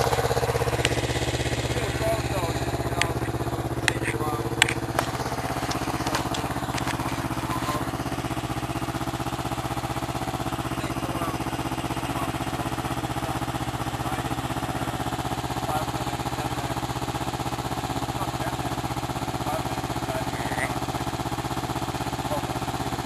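A 2007 Kawasaki Ninja 250 motorcycle on a test drive gives a steady, continuous engine drone with a constant wind-like rush, heard from nearby, a few faint clicks early on.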